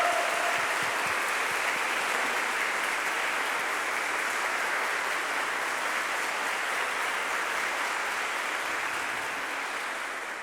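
A church congregation applauding during a service with choral music, a dense, steady roar of clapping that holds for about ten seconds and eases slightly at the end.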